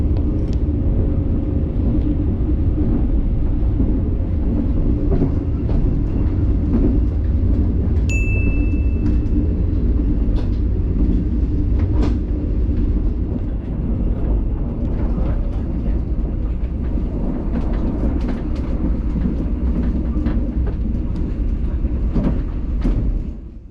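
A first-class sleeper train running between Bangkok and Chiang Mai, heard as a loud, unbroken rumble of wheels and carriage noise with a brief high tone partway through.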